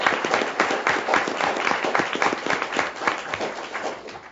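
A school board meeting audience gives a steady, dense round of applause for an honored student, many hands clapping evenly throughout with no voices standing out.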